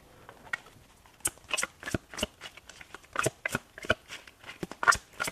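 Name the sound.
shuffling a deck of tarot cards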